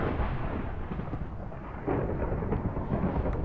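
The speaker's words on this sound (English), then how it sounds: "Oh no, thunderstorm has not stopped." Rumbling in-game thunder from a Minecraft (Polycraft) thunderstorm, a steady low roll that swells slightly partway through, heard alone without voices.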